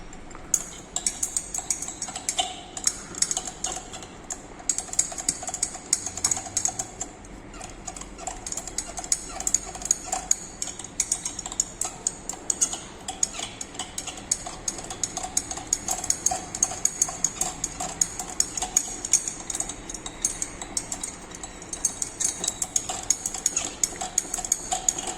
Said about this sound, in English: Precipitate of Fe hydroxide, ferric hydroxide, and we are going to stir it.